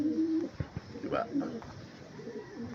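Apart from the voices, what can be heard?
pigeon cooing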